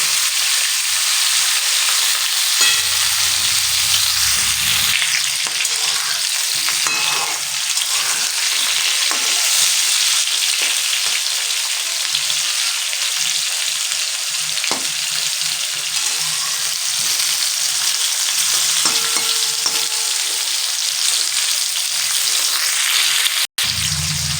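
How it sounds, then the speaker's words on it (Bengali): Pointed gourd (potol) fries in oil in a pan for a prawn and potol dish, a loud continuous sizzle with occasional stirring scrapes, close and without voices. "আমার কিন্তু পটল ভাজা কিন্তু একবারে সুন্দরভাবে আমি কিন্তু পটলটাকে ভেজে নিলাম।"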